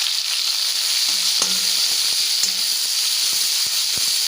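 Onions and coriander sautéing in a pan for beans poriyal give a steady, close sizzling hiss with a few soft stirring knocks scattered through, no voices.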